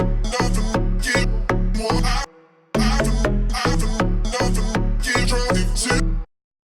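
Chopped vocal melody for an EDM dance-pop track, with a synth pluck landing on the offbeat; loud, rhythmic stuttering phrases that break off briefly near the middle, then resume before stopping abruptly.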